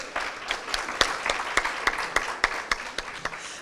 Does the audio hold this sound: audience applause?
yes